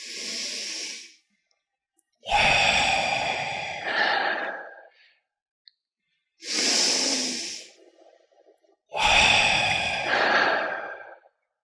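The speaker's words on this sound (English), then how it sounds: "we'll just do 3 conscious breaths together" Deep, deliberate breaths of a guided breathing exercise: three long, loud inhales, each followed by a drawn-out exhale, heard close with pauses between and no talking.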